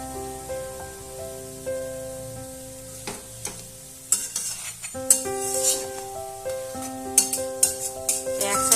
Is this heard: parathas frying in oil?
yes